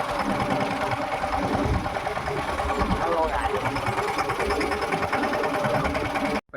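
A tractor engine runs at a steady idle on a farm, a continuous close rumble with rhythmic mechanical chatter and people talking over it.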